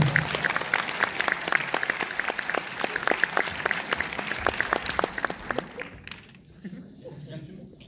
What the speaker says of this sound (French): Donc Victor, on peut l'applaudir, tu peux descendre s'il te plaît.